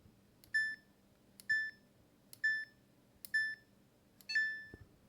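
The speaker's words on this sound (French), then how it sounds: "ce fameux bip-là, c'est pour nous dire qu'on est sur le premier bouton" The dial of a Samsung WW90T684DLH washing machine is turned click by click, and each step gives a short, clear electronic beep. Five evenly spaced beeps sound close in a quiet room, and the last one is slightly longer.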